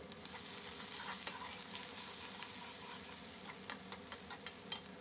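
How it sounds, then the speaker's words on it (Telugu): Two finely chopped onions frying in oil in a pan for a ridge gourd curry, heard as a continuous close sizzle with scattered crackles and a few stirring clicks, no talking. "ఇందులో సన్నగా తరిగిన ఒక 2 ఆనియన్స్ వేసి వేయించుకుంటున్నాను."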